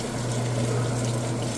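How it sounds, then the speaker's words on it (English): A Whirlpool washing machine kicking into its spin cycle right after draining, a steady low motor hum with a rushing, watery whir, continuous and even throughout. "this will spin out for quite a while, but it doesn't take very long for it to get up to speed"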